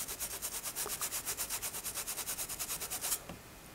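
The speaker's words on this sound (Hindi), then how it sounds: "ऊपर से दांतों वाले ब्रश से यूँ रब कीजिए" A toothbrush scrubs a phone's BGA IC wet with cleaning chemical, a fast, steady back-and-forth bristle rubbing of about twenty strokes that stops near the end.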